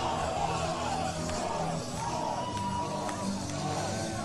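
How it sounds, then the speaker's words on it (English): A wrestling crowd at a Reno show roars and chants "oi" for a hometown tag team, a dense, continuous wall of voices with yells rising out of it throughout. "And listen to this crowd explode with the oys."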